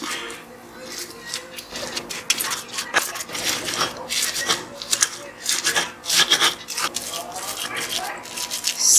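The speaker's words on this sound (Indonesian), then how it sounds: "Kita ulek." Chili sambal being ground by hand with a stone mortar and pestle (ulek), with sugar, salt and a little MSG mixed in; steady rough scraping and rubbing strokes repeat close up throughout, loud and uneven.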